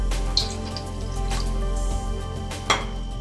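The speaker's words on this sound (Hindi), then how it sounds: "अब मैं इसमें ये थोड़ा सा पानी डालूंगी" Water is poured into milk held in a cooking pot in a home kitchen, a close, splashing pour with a few sharper clinks of the vessel over a low background hum.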